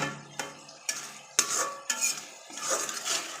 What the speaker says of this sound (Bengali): আমি মশলাটা ভালোভাবে কষিয়ে নিচ্ছি।